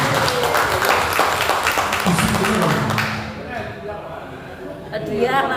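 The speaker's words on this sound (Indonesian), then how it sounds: "tepuk tangan lagi" Audience applause at a PGRI branch officials' inauguration ceremony in Tegal, a dense patter of clapping for about three seconds mixed with talk, then fading as a voice carries on speaking.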